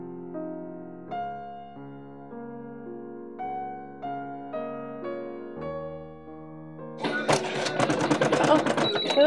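A sewing machine fitted with a walking foot starts stitching near the end: a fast, dense run of mechanical ticks that follows several seconds of steady held tones and stops as the clip ends.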